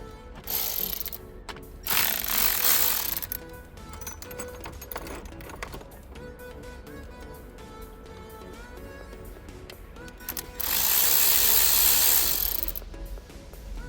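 A ratchet with a long extension works a T20 Torx bolt near a camshaft position sensor on a Mercedes engine, clicking in a busy run of short ratcheting strokes, with louder bursts of handling noise at the start and end.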